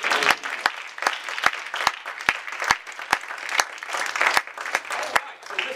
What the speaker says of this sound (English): Why don't we clap amen.